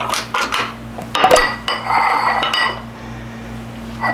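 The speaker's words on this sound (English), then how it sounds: "I'm gonna graciously smear my ramekin with it" Butter spread inside a ceramic ramekin with a utensil, giving light scraping and clinking of metal on ceramic over a steady low kitchen hum, with a couple of sharper knocks.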